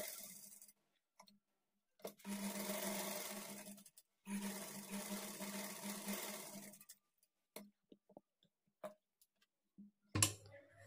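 A sewing machine stitches lining onto blouse fabric with a quarter-inch margin, whirring in a short run and then two longer bursts, followed by scattered faint clicks and a sharp knock near the end.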